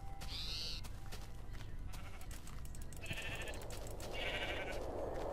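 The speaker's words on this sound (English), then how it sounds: "that a sheep? Yes, it is." Sheep in the Minecraft video game give two short, nasal bleats close together in the second half, over a low steady background and without any talk.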